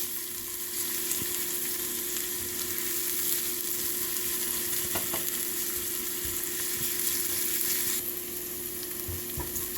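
Radish bortha with green chilies fries in a pan while being stirred, giving a steady, loud sizzle throughout with occasional soft clicks from the stirring utensil.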